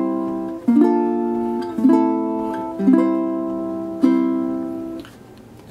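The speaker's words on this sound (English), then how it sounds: "So we're going to recommend the down 2x strum, which will sound like this." A ukulele plays the chords of Ode to Joy with a down-down strum pattern, giving a handful of bright, evenly spaced strums about a second apart as the chords change, ringing alone and close.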